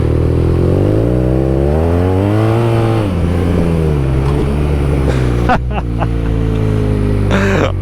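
A 2014 BMW R nineT motorcycle with Brembo brakes is ridden, its engine droning loud and close with shifting revs that rise and fall, then ease off as it slows, with a few sharp clicks and knocks near the end.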